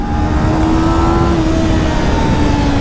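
Twin-cylinder sport motorcycle, a Yamaha R3 or Ninja 400, engine droning loud and steady at high revs after a downshift, with a rising tone and heavy wind rush, no talk.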